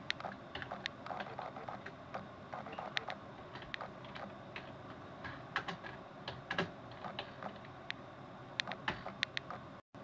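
Steady, close typing on a computer keyboard as a search query is entered into Google, quick irregular key clicks running throughout with brief pauses, no talking.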